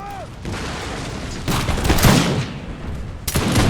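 Musket volley gunfire in a large Napoleonic-era video game battle on the Rhine, heard as dense crackling fusillades: a sustained roar of massed shots swelling mid-clip, then another burst near the end over a continuous battle din.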